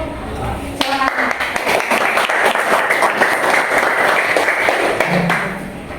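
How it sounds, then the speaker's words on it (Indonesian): A classroom of students breaks into loud, sustained applause, with many hands clapping together close by for several seconds before it fades out, and a voice is briefly heard at the start and end. "Jadi untuk materi ini kita beri aplaus dulu."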